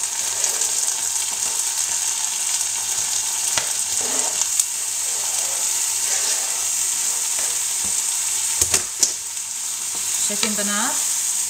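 Chopped tomatoes sizzle steadily in a hot frying pan in a home kitchen, a continuous bright frying hiss with occasional stirring clinks and a brief spoken word partway through.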